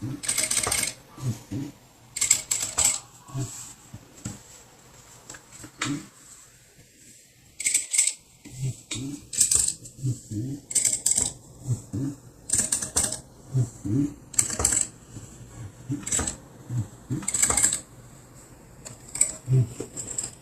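A sewing machine stitching fabric slowly, running in short rhythmic bursts of rapid clatter separated by brief pauses, close and fairly quiet, with no talk.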